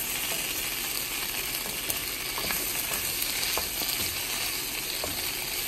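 Ivy gourd (kovakkai) fries in a pan with spice powder, giving a soft continuous sizzle with occasional light scraping and stirring clicks, steady and fairly quiet, with no talking.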